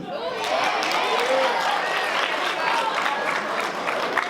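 Students at a school assembly clap along during a motivational comedian's set, a dense, steady patter of crowd applause with a voice talking over it the whole time.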